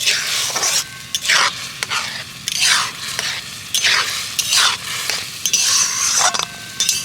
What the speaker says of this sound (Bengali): এইভাবে সুজিটাকে এবার আমি নেড়ে চেড়ে একটা ডো তৈরি করে নেব